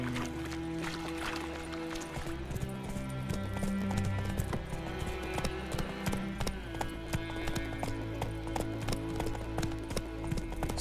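Roach the horse's hooves in The Witcher 3, a rapid, continuous clip-clop of galloping close by, layered over in-game music and ambience.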